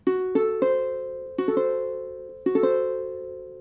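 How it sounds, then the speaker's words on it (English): A diminished chord is sounded on a sustained keyboard-like instrument, struck as a chord, then its notes played one by one and the chord struck again, ringing and decaying clearly with no voices. "If it were diminished, it would sound like this."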